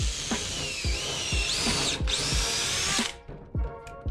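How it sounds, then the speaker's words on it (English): A power drill whines at high speed as it bites into metal, drilling out an old seized bushing, with repeated knocks and pauses, close and loud, no talking. "We're just drilling out the old bushing."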